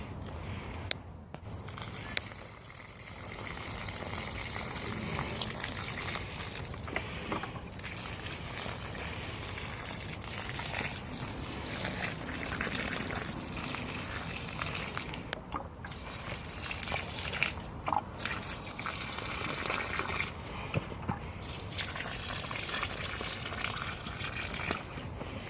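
Water pours and gushes steadily in an allotment garden where potatoes are planted, a continuous close splashing stream lasting throughout with brief interruptions and no talking.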